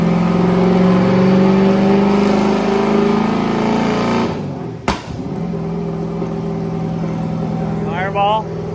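A 1000 horsepower police car engine revs loud and close on a dyno, a sustained roar that cuts out sharply with a bang midway, then settles to a lower rumble while people talk over it.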